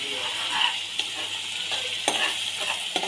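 A ground coconut and onion paste sautés in oil for a spicy mutton curry, with a steady close sizzle broken by the scrape and tap of a spoon stirring the pan.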